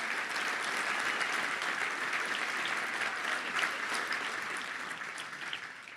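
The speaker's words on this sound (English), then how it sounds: "Let's give them a round of applause." A large crowd at a Little Rock Touchdown Club event claps in sustained, dense applause that holds steady for several seconds before slowly beginning to fade.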